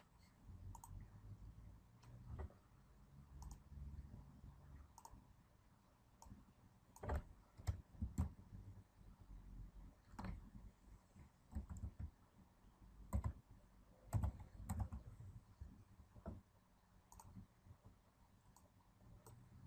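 Computer keyboard typing while a program is written, heard as soft, irregular clicks and taps in quick bursts with some louder keystrokes, faint and close, with no talking.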